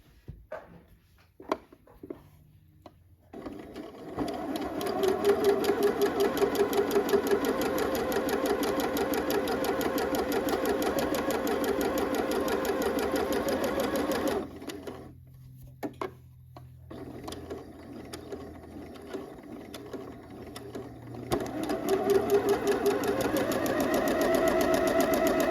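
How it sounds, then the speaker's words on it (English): A home sewing machine runs long basting or gathering stitches at a 5/8 inch seam allowance on a fall top, a steady mechanical whir that pauses briefly midway and then resumes, close and alone. "Let's go ahead and put these basting stitches into place, or gathering stitches"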